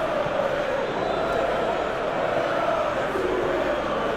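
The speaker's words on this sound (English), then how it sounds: "the crowd clearly like what they just saw" A stadium crowd roars in a Tottenham Hotspur Master League football video game, a steady, dense wall of cheering and chanting that holds at an even level without breaks.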